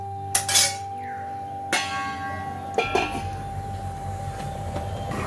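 A metal lid set onto a cooking pot of egg chana, a few sharp clanks and a ringing metallic tone that fades, close and clear, with a low hum underneath.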